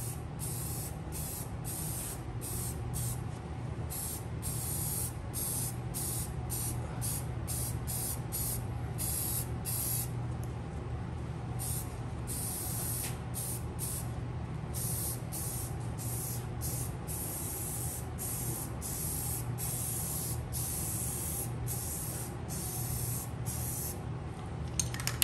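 Aerosol primer sprayed onto Honda CT70 motorcycle parts, a steady hissing spray broken by many short pauses between passes, close and moderately loud with no talking.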